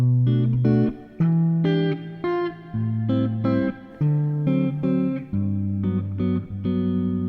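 A jazz chord progression of rich, sustained keyboard chords changes every second or so in a steady progression, loud and close with no voices.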